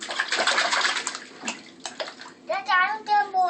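A young boy splashing and swishing water in a bathtub with a few sharp sloshes, while a child and an adult talk over the water.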